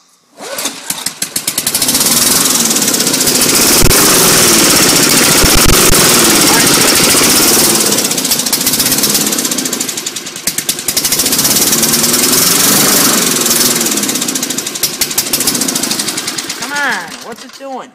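An old, abandoned lawn mower engine runs loud and rough with a rapid knocking chug, sputtering briefly midway before picking back up, then cutting off at the end.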